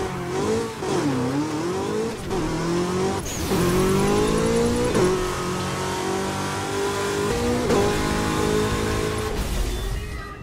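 Race car in Burnout Paradise Remastered accelerating hard, engine revving up and down through gear changes with tire squeal as it drifts, loud and continuous throughout.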